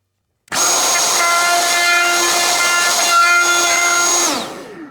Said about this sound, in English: then we'll go back against the grain with the router to finish it up